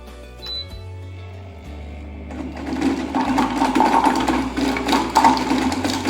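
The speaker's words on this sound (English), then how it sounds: "place 4 garlic cloves and chop for 7 seconds, speed 5" A Thermocook Pro M 3.0 kitchen machine chops four garlic cloves at speed 5. A low motor hum runs first, then a loud rattling whir of blades striking cloves rises and holds steady, close up with no voices.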